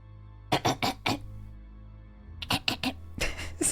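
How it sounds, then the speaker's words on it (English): Several short bursts of throat clearing and coughing from a man with a slight cold, close and fairly loud, in two clusters separated by a quiet pause. "so I'm clearing my throat a lot"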